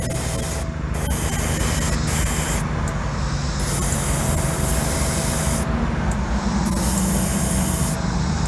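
An aerosol spray can hisses continuously and loudly at close range while painting a Hot Wheels 71 Datsun 510 die-cast model, with a few brief breaks in the steady spray.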